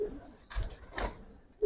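A Giribaz pigeon in a loft gives two soft, close coos about half a second apart, with quiet room background between them.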